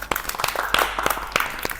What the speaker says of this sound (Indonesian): tepuk tangan dulu ya semua